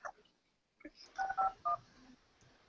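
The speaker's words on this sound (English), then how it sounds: "Looks like Vault is looking to phone in" Touch-tone telephone dialing as a board member phones into a board of directors meeting: a few quick DTMF beeps in a short cluster, fairly close and clear, over faint room noise with no talking.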